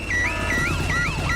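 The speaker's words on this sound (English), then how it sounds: "Daddy Pig has set off the noisy house alarm." A noisy house alarm goes off in the Peppa Pig cartoon: a loud, continuous electronic siren that warbles up and down in repeated sweeps, with no voices over it.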